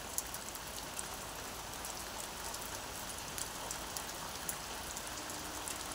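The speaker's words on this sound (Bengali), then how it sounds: "সকালবেলায় ঝমঝম ঝমঝম করে বৃষ্টি হচ্ছে।" Heavy morning rain falls steadily, a dense, even hiss of drops on surfaces with occasional sharper patters, continuous and close throughout with no voices.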